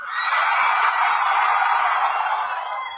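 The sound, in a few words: audience shouting as loud as they can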